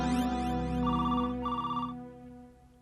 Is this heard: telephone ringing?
yes